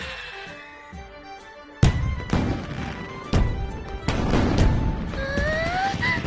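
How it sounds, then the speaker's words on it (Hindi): Several deep booming bursts go off at irregular intervals with crackling tails, followed by rising whistling streaks near the end, like fireworks outdoors. "आतिशबाजी कितनी कमाल की है।"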